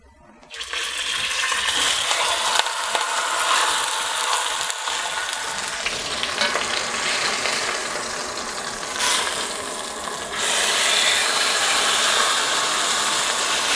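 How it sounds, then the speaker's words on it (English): Meat sears in a little oil in a pan for pot roast, a loud, continuous close-up sizzle and crackle that holds steady throughout and swells slightly near the end. "when you're searing meat, you'll put it down in a pan, which is a little bit of oil"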